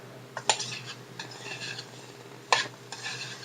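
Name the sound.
spoon scooping buttered carrots from pan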